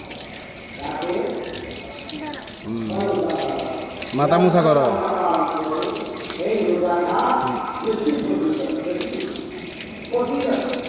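Water splashes and pours steadily while a child's head is washed, with running-water noise continuing throughout under close, ongoing speech.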